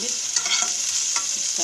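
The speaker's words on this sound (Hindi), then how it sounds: "शिमला मिर्च हमें अच्छे से फ्राई हो जाएगी जल्दी जल्दी।" Cubed capsicum frying in hot oil in a pan, a steady sizzle broken by a few quick scraping stirs of a spoon, close and alone without speech.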